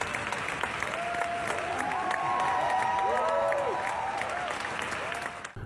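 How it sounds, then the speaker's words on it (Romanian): A film premiere audience in Venice gives sustained applause, a dense wash of clapping from a large crowd, steady and loud, with a few faint whoops rising above it. "Premiera mondială a peliculei a primit din partea publicului 11 minute de aplauze."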